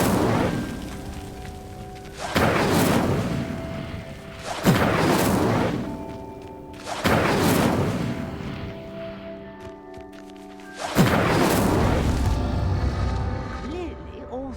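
Incendio fire spell lighting pyres in Hogwarts Legacy: five heavy whooshing flame bursts spaced about two seconds apart, each fading into a roaring rumble over game music.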